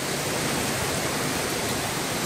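Hurricane Irma's wind and heavy rain sweep over a street in Tampa, Florida at night, a dense, unbroken roaring hiss with no break, loud and close.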